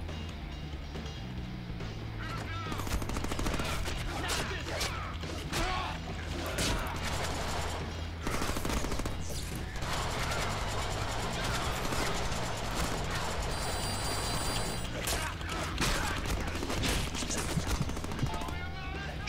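Gunfire from shooting in the Deadpool video game, dense rapid bursts mixed with game music and mechanical effects running steadily throughout at a loud level.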